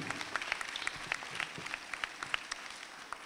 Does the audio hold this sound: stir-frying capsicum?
no